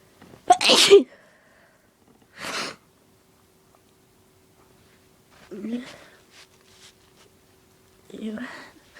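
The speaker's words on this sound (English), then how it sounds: "I'm gonna sneeze." One big, forceful allergy sneeze bursts out close and loud, followed by breathy whispers and sniffs with short pauses between them.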